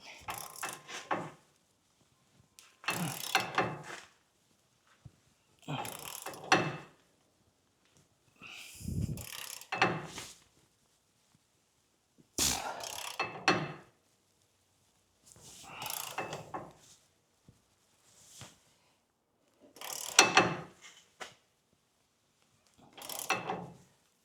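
A wrench tightens a steering rack bolt on a first-generation Toyota Tacoma in a series of about nine separate bursts of ratcheting clicks and metal rasps, each separated by quiet gaps.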